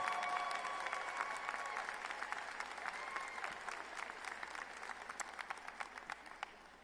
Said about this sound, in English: Please give her a round of applause for this distinct honor.